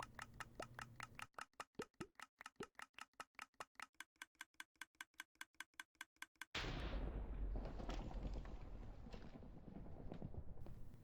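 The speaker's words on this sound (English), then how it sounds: "I just heard a explosion, thought it was a super creeper, but it was just thunder" Minecraft thunder crashing in after a long run of rhythmic clicking, a sudden loud, broad rumble that fills the rest of the clip and slowly fades, with no talk.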